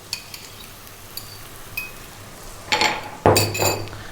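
Beaten eggs and zucchini stirred in a pan, with a few light clinks of a utensil on the pan, then a louder scraping, sizzling stir near the end, close and fairly quiet.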